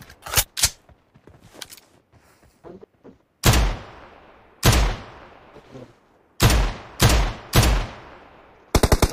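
Desert Eagle pistol shots in a shooting game, a dozen or so sharp, loud reports in irregular bursts, some spaced single cracks and quick doubles, with quieter clicks and thuds between them.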